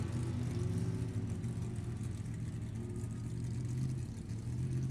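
A nostalgia drag racing car engine at an NHRA event roars steadily and loudly throughout, a dense low drone with a slight rise in pitch toward the end.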